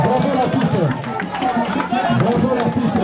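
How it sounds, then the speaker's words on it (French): A crowd at a comedian's funeral ceremony, during the lifting of the body, claps loudly and continuously amid chatter, shouts and voices. "Nous allons applaudir très très fort."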